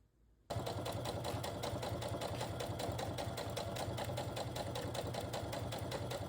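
A sewing machine starts abruptly and runs at a steady rapid pace, stitching a bag seam with a close, even mechanical whir and needle rattle, no talk over it.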